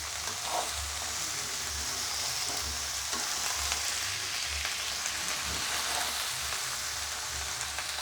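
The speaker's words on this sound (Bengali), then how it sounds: "আরও যেটুকুনি আছে পুরোই ঢেলে দিলাম, দিয়ে নাড়িয়ে নিচ্ছি আবার।" A bean, radish and potato ghet is stirred as it fries in a pan, giving a steady close sizzle with soft scraping of the spoon throughout and no speech.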